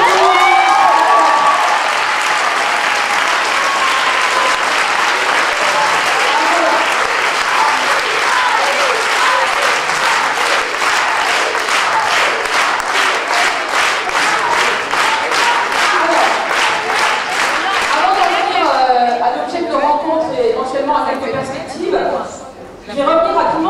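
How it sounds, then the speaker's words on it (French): Loud, dense applause from a large audience at a feminist movement gathering's closing session, sustained for about twenty seconds with rhythmic clapping building near the end before easing off into a voice. "Et je voudrais vraiment qu'on lui fasse voilà, un grand applaudissement."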